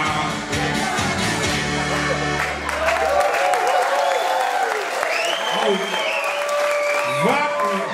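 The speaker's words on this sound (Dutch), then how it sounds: "maar wat een kloten applaus" Steady applause from a crowd at a 20th anniversary party for de Dikdakkers, several seconds long, with a low musical tone fading out early and a voice speaking over the clapping.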